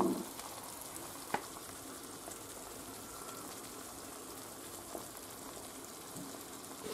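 Meatballs frying in a pan alongside a softened sofrito: a steady, fairly quiet sizzle and crackle runs throughout, with a single sharp clink near the start and no talking.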